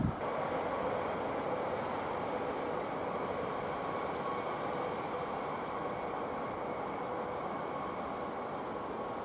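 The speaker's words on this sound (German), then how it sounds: "So, hier haben wir jetzt den Regio vom Brenner Richtung Innsbruck" Regional train on the Brenner line heading toward Innsbruck, a broad steady rumble and rushing noise that stays fairly constant throughout, with no talking.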